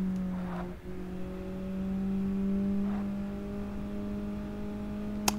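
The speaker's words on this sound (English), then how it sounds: "But you want to be able to hear the car noise as well" Race car engine in Forza Motorsport, a steady sustained drone with a slowly rising pitch, heard alone with no talk, plus a brief dip early on and a sharp click near the end.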